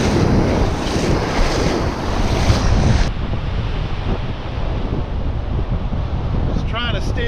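Strong northeast wind roars across an Outer Banks beach on a cold day, with heavy surf crashing steadily. The wind buffets the microphone loudly and continuously throughout.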